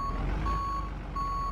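A van's reversing alarm in the game Big Ambitions beeps at a steady pace, a few high tones over a low engine hum.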